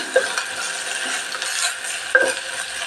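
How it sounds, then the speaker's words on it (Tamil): Mint leaves frying in a pan for biryani, giving a steady soft sizzle with light stirring scrapes and a couple of brief metallic clinks of a spoon against the pan, close by and with no voices. "கொஞ்சம் புதினா தழை, இது நல்லா ஃப்ரை ஆகட்டும்"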